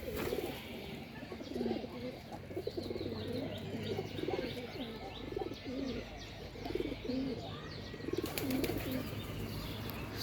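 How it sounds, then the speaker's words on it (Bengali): Racing pigeons coo in soft, repeated low rolls close by at a rooftop loft, with occasional light chirps and faint rustling in the background. "এই যে আমার কবুতর"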